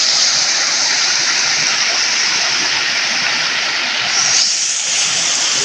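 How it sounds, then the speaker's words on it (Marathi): A small Konkan waterfall stream after heavy rain rushes down in a loud, continuous broadband roar, close and steady throughout. "बघा सरळ खाली पाणी जातं"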